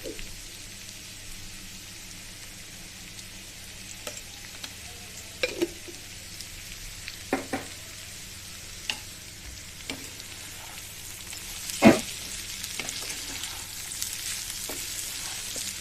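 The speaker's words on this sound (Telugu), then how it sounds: "కారం కలిసేలాగా మంచిగా కర్రీ ముక్కలంతా పట్టేలాగా కలుపుకోవాలి." Potato fry with chili powder is stirred in a pan, giving a faint, steady sizzle broken by scattered soft scrapes and clinks of the spoon against the pan.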